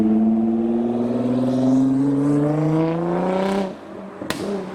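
A Nissan GT-R rolls slowly past at a Japanese car meet in Reading, its engine giving a steady low drone that rises gently in pitch and then drops away, with a sharp knock just after.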